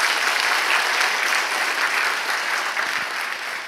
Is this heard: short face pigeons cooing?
no